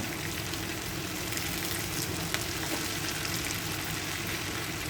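Chicken kondattam fries on a medium flame with a soft, continuous crackling sizzle, fairly faint and steady throughout with a few tiny pops.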